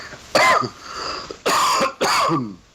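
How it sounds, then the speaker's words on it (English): Three harsh coughs close by, one then a pause and two more in quick succession, with throaty rasp. "See, you caught my cough."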